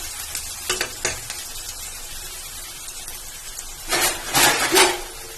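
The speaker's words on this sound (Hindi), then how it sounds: "अच्छी तरह तेल में हमें प्याज को अच्छी तरह से फ्राई कर लेना है।" Onions sizzle in hot oil for an aloo parwal sabzi, a steady close fry broken by bursts of spatula scraping and stirring, the loudest near the end.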